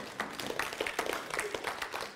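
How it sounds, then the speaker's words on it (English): A church congregation claps and applauds for a couple of seconds, scattered moderately loud claps blending into a soft, uneven ovation at mid distance. "clap it up for Jesus"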